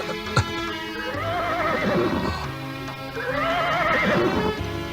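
A horse whinnies twice as a radio drama sound effect, each call a loud, wavering neigh standing alone in the foreground with a brief sharp knock at the start.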